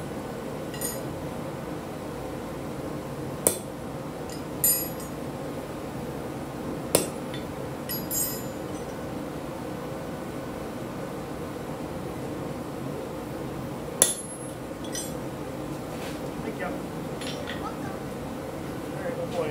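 A hammer strikes a touch mark onto a small forged decorative hook on an anvil, giving a few sharp, isolated metallic clinks spaced seconds apart over a steady background hiss.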